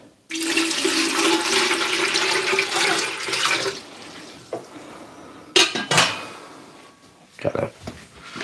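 Water pours loudly and steadily into a container for about three seconds, followed by scattered clinks and knocks of handled objects nearby.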